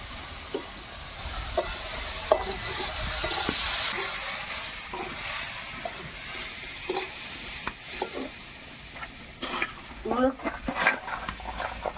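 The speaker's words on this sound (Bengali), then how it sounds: "এবার করে নাড়তে থাকবো, এটা তলাতে বসে না যায়" Jujubes for pickle are stirred and fried in a pan, soft sizzling under repeated scraping and clacking stirring strokes, with brief talk in between.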